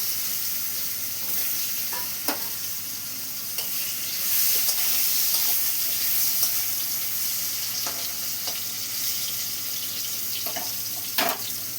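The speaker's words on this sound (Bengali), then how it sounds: "এটা আমি ভেজে নেব তেলের মধ্যে" Mushrooms frying in hot oil in a wok give a steady hissing sizzle, with occasional sharp pops and spatters over the continuous crackle, no voices.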